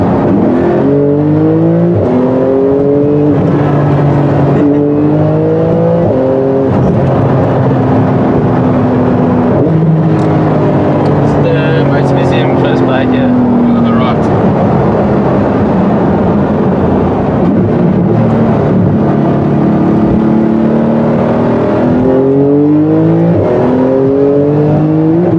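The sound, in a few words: Porsche 911 991 GT2 RS supercar driving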